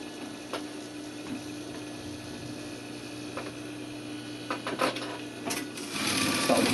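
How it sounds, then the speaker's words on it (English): A sewing machine runs a short back tack while stitching a welt pocket, a steady mechanical hum with quick needle ticks, close and moderately loud, building toward the end. "Start with the back tack."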